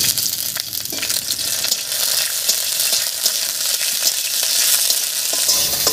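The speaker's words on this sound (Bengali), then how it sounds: "তেল গরম হয়ে গেছে। এবারে তেলের মধ্যে দেব কয়েকটা চেরা কাঁচা লঙ্কা।" Slit green chillies fry in hot mustard oil in a kadai for a Bengali mixed-vegetable sabji, giving a steady, close, crackling sizzle with scattered clicks from stirring and no talk.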